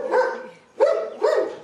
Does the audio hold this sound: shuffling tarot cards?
no